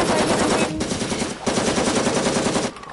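Loud, rapid automatic machine-gun fire rings out in the video game Cuisine Royale, sustained in long bursts broken by two brief pauses, close and dominant.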